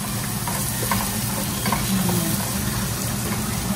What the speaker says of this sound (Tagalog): antayin lang natin na maluto saglit itong sibuyas